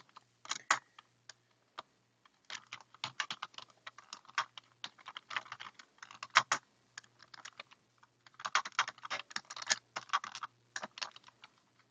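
Steady typing on a computer keyboard, heard close up with irregular bursts of key clicks and short pauses, with a faint low hum underneath and no talking.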